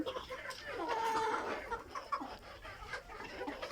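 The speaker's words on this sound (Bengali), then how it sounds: "মুরগিগুলো অনেক সুন্দর হয়েছে" Soft clucking from a group of Egyptian Fayoumi chickens, fairly quiet, with scattered faint background noises.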